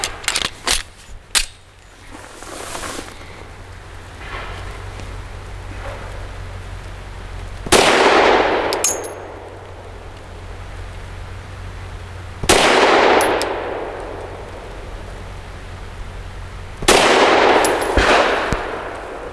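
Shots from a Stoeger STR-9S 9mm pistol firing Liberty Civil Defense lead-free ultralight rounds ring out at an outdoor range: a quick burst of sharp cracks at the start, then three single loud shots spaced several seconds apart, each with a ringing tail.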